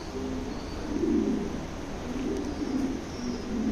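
An American Modena pigeon, a female, coos in low, soft, repeated rolling phrases, close and fairly quiet against faint background noise.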